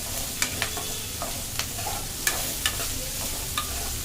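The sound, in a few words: onions and green chillies frying and being stirred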